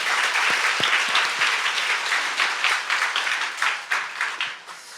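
A church congregation at a New Year's Eve service breaks into loud, close applause, a thick, sustained roar of clapping with some distinct individual claps that swells and then gradually eases.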